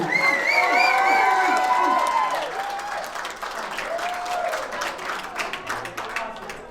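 Wedding guests burst into loud applause and cheering with a few whoops as the bride and groom head to their first dance, the clapping strongest at first and then settling into a steady, slightly softer ovation.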